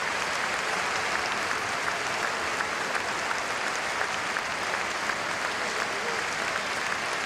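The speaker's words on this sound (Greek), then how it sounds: "Χειροκροτείται από τον κόσμο." Football stadium crowd at a League Cup match applauding a substituted captain as he leaves the pitch, a dense, steady wash of distant clapping filling the whole stretch.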